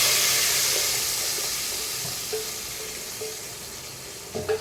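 Fenugreek and fennel seeds frying in hot oil in a pan for a Tamil fish curry give a steady, close sizzling hiss, with faint stirring clinks near the end.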